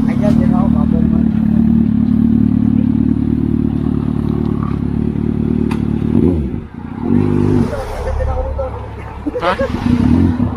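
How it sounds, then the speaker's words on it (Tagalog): Kawasaki Z1000R motorcycle engine running on a test drive, a steady loud low drone with a brief dip and swell partway through, with people talking over it. "test drive natin tong motor ni Moto Z1. Ito ay ano, Z1000R."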